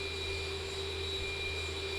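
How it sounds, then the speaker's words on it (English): The left jet engine of a Boeing 737-800 starts in the X-Plane flight simulator with the Zibo mod, giving a constant droning roar with steady high whining tones, even and unbroken, with no talking. "Firing into life, that left engine."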